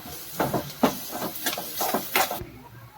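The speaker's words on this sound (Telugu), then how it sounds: "పచ్చి వాసన పోయేంత వరకు వేయించుకోండి చక్కగా." Ginger garlic paste fries in a pan, a soft sizzling hiss broken by rhythmic scraping strokes of a spatula about every half second, close and moderate, then cutting off abruptly.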